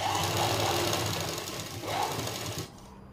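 A sewing machine runs steadily as it stitches the seam of a skirt, joining two layers of fabric along the top edge. The motor hum continues for most of the time and drops off sharply near the end.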